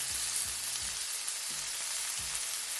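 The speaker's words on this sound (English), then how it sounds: "I'm gonna also add my shrimp right here, and the shrimp is gonna fry for at least 3 minutes on each side" Shrimp frying in a hot pan for Cajun chicken and shrimp pasta, giving a constant, even crackling sizzle like light rain, with a few faint low thuds underneath.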